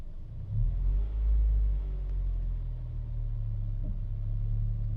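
A car pulls away very slowly and cautiously with a slipping clutch, its low engine rumble rising gently and holding steady at low revs, close by and continuous.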